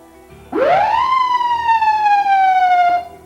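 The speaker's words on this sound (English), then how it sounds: "Check the horn and bump the siren switch." A single short ambulance siren whoop, from a quick bump of the siren switch, sweeps up sharply, then holds and slowly falls for about two seconds before cutting off, loud and close.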